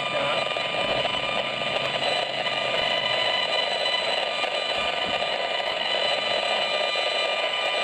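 RF meter audio output near a cell tower beside a hospital building, a steady buzzing electronic drone with dense high tones, constant and moderately loud throughout with no speech.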